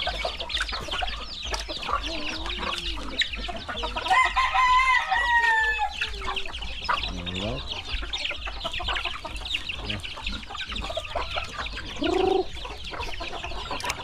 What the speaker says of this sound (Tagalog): nakalimutan ko nagpatuka or nagpakain sa ating mga manok